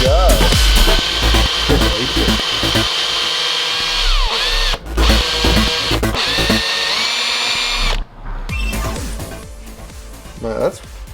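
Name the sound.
power drill drilling a hardened clutch fork shaft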